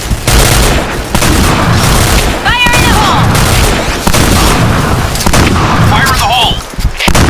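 Gunfire rattles through a firefight in the Point Blank shooter game, with dense, loud bursts and booming shots running almost nonstop while someone talks over it.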